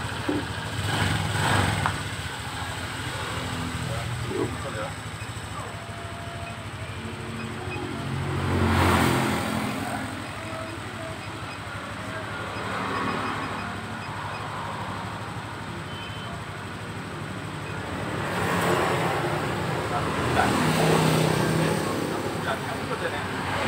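A motorcycle engine idles to warm up with a steady low hum, swelling briefly a few times, while someone talks over it.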